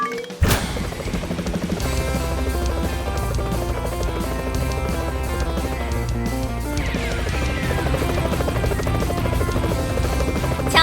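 A cartoon helicopter flies in a children's animated adventure, its rapid rotor chop steady and loud throughout, layered with bright music.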